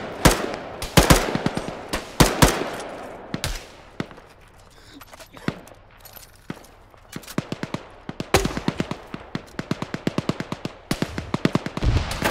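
Rapid bursts of machine gun fire from a side-mounted gun in Arma 3 crack out loud and close in repeated volleys, with a brief lull in the middle before the firing picks up again.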